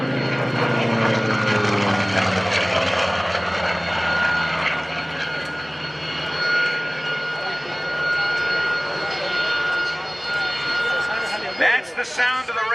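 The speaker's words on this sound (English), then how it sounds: "let's listen to the sound of this radial engine" A Curtiss SB2C Helldiver's 1,900-horsepower radial engine runs at an air station open house, a loud, steady, rumbling drone that holds for the full stretch with some wind, and voices are heard faintly in the background.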